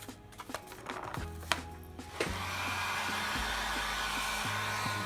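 Heat gun warming craft foam, starting with a few clicks and handling noises before the blower kicks on into a loud, steady whirring roar that holds to the end.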